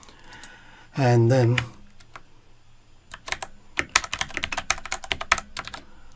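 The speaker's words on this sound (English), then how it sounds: "I'm just typing" Rapid clicking of a computer keyboard being typed on, a brisk run of keystrokes that follows a brief spoken phrase.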